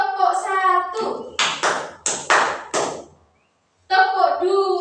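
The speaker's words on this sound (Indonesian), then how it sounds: "Tepuk angka itu tepuknya 1 sampai 3." Sharp hand claps from a Tepuk Angka counting clap pattern in a Grade 5 classroom ice-breaker ring out in a short burst, set between stretches of a teacher's speech.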